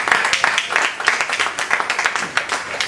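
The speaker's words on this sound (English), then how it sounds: "Let's give him a round of applause." An audience applauds for Jeff Crowley, a member of the host committee, at a 2012 event, with dense, steady clapping that carries through the whole stretch at close range.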